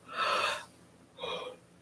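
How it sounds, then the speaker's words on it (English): A person yawns twice, a long open breathy yawn followed by a shorter second one, close and clear with no talking. "I'm so yawning."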